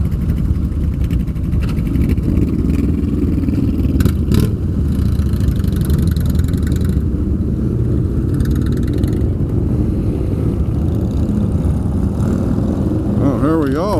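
Blacked-out Harley motorcycle engine idling and rolling slowly at Daytona Bike Week, a steady low rumble with passing engine noise from other motorcycles around, continuous and close.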